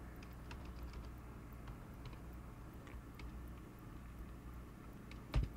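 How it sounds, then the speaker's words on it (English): Someone types a URL on a computer keyboard, producing soft, scattered keystroke clicks at low volume, with a single louder thump near the end. "let's just type in the URL here"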